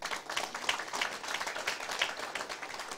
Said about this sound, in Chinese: 好，给你拍手。